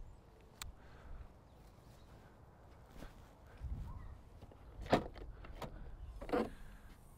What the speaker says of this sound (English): Electric boot release